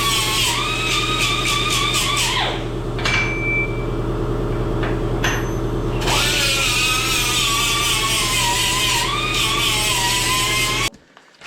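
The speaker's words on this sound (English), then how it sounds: "I got that to drill down through" A power drill whines loudly as it bores through thick tubing on a Bandit 65XP wood chipper, its pitch dropping under load, pausing briefly, then grinding on before stopping abruptly.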